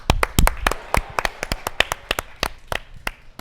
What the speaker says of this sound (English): Let's give one more round of applause for all of our award recipients